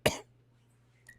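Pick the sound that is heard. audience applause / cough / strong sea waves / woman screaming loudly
cough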